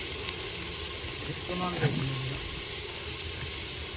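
Whole spices, poppy seeds and onion paste sauté in a pan for a mutton rassa, with a steady sizzling hiss and a brief stir or clatter midway, while a person talks over it.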